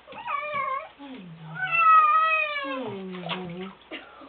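A cat meows in its bath, loud and close: a run of drawn-out, complaining cries rising and falling in pitch, one after another.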